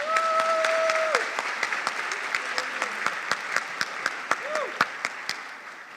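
Graduation audience applauding at a high school academies ceremony, a broad roar of clapping with distinct individual claps standing out at a regular pace, while brief tonal voices rise faintly underneath.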